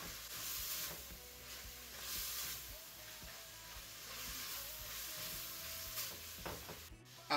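Red wine vinegar hits a hot pan while making beef stew, giving a soft, steady sizzle and hiss with faint stirring scrapes, quiet and close.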